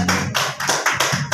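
Audience applause at a teachers' training gathering, a brief burst of dense clapping from a room full of people, close and steady for just over a second.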